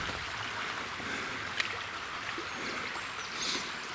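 A mountain river runs steadily at a ford in the Caucasus, a continuous broadband wash of flowing water with small splashes, moderately close and free of voices.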